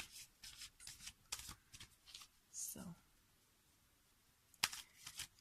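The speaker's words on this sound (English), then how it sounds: "I should just love that sound of shuffling cards." Short papery riffles and soft snaps of cartomancy cards being shuffled come in bursts, close and fairly quiet, with a brief spoken word in between.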